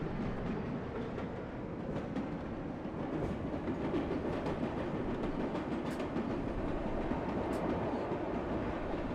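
Redbird subway train running in a New York City subway simulator game, heading toward 34th Street–Hudson Yards; a steady, loud, continuous rumble with rail clatter throughout, no talk.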